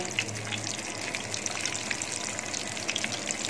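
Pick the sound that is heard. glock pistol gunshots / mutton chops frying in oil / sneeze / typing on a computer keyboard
mutton chops frying in oil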